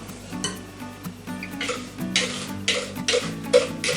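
Utensils clink and scrape against a bowl while eggs are stirred into milk and flour for a Portuguese egg cake, with light irregular taps and swishes, close and fairly quiet.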